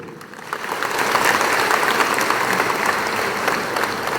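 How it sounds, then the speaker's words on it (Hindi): Loud, dense applause from a large audience at a community gathering, swelling after the first half second and holding steady with faint crowd noise underneath. "तो जोर से ताली दो।"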